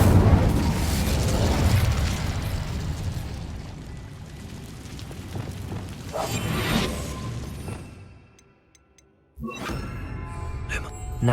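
An Incendio fire spell in Hogwarts Legacy gives a loud, roaring whoosh and burst that rumbles for several seconds, fades to near silence, then gives way to a sharp clatter.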